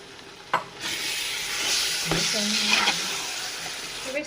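Tomato masala for beef biryani simmering in a pan, a soft continuous sizzle with a couple of clinks and scrapes of a utensil, no talking.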